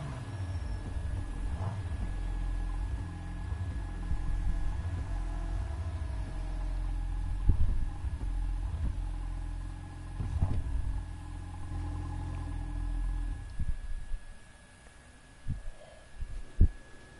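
Supercharged 5.6-litre car engine in the racing game Need for Speed Heat, a low steady rumbling idle with throbbing pulses and occasional revs, fading and sputtering near the end.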